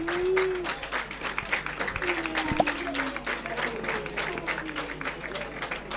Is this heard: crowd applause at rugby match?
yes